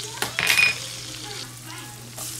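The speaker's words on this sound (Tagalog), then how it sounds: "Init ng kawali, lagyan natin ng butter," Butter and garlic sizzling in a hot kawali, a close frying hiss with a brief burst of stirring early on, then a softer steady sizzle with no talk.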